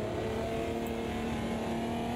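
A race car engine from the driving game Automobilista 2, played in VR, drones steadily at close range, a sustained tonal hum with no speech over it.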